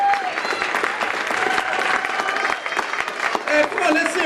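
An audience at a tribute event claps for a guest's mother, continuous crowd applause with sharp individual claps standing out and some voices mixed in, fairly loud and close.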